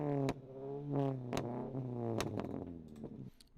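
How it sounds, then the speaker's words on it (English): A warm car engine revs up and down several times with rising and falling tones and sharp pops, played back from an older recording, close and alone. "we're gonna give it some revs just to see how she actually sounds"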